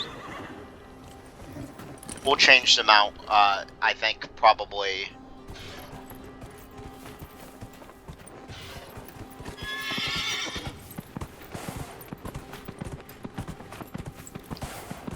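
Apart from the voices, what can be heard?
horse neighing and hooves in video game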